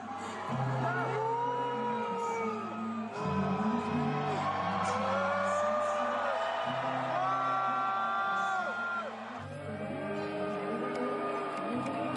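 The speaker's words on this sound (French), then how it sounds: "les huées qu'on entend là, on les a pas autant entendus à la télévision" A large live crowd at a Eurovision performance booing and yelling in a sustained roar, loud and continuous, with music and cheering mixed through it.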